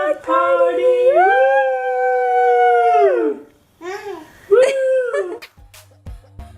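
A long, loud, sustained howl rises and holds steady for about three seconds, followed by two shorter, wavering howls and then a brief clatter, all at a lively indoor dog party with no talking.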